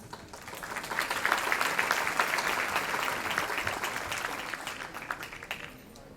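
Sustained audience applause at a Circassian association's year-end show in Ankara during a plaque presentation, a dense clapping wash that swells early, holds steady and tapers slightly toward the end, with no talk over it.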